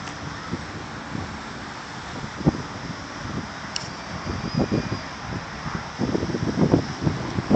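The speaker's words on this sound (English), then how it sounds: "it's kind of windy right now here at the lake" Gusty wind at a lake roars steadily across the microphone, with low buffeting thumps and rushes that grow stronger toward the end.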